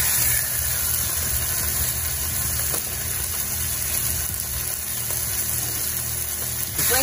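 Ground beef sizzles and fries in hot avocado oil in a skillet, a steady, close crackling hiss with low rumbling underneath that continues without a break and with no talking.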